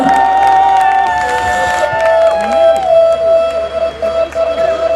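Wedding sangeet night audience at an Indian celebration cheering and whooping loudly, a dense crowd roar with scattered shouts over a steady tonal hum, continuous for several seconds.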